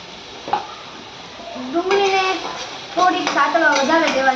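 Onion frying in a pan for masala pav, a soft continuous sizzle with an occasional stir or clink, partly covered by a voice talking over it.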